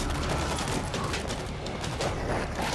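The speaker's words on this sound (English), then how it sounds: "Focus fire on the big one! Reload! Machine gun set!" Sustained machine-gun fire roars through a zombie horde fight in World War Z on a Tokyo level, a dense, continuous rattle of shots packed tightly together and loud throughout.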